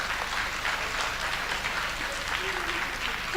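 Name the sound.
audience applause welcoming new senior management members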